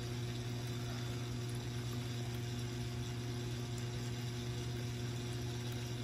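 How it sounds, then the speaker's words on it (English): Steady mechanical hum with a constant watery rush underneath as water flows into an aquarium tank from a failing Tunze Osmolator Pro top-off system, a pump-like drone running unchanged throughout with no voices. "still got a pretty steady flow of water coming in"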